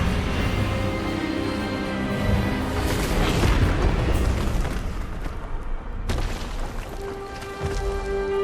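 A disarming Expelliarmus spell fires in Hogwarts Legacy during a wizard duel, a loud booming burst with crackling magical impact and rumbling tail, a second sharp hit near the end.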